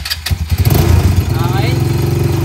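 An ATV engine cranks and catches, then settles into a loud, close, rhythmic idle, with a voice talking over it.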